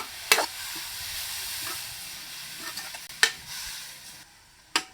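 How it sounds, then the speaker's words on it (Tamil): Radish pieces frying in oil in a pan, a steady close sizzle with a few sharp scraping clicks of a utensil stirring the pan at irregular intervals. "வெறும் எண்ணெயில் இந்த காயை வந்து பார்த்திங்கன்னா நல்லா வதக்கணும்."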